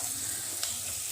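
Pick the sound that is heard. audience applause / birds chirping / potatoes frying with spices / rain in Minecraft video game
potatoes frying with spices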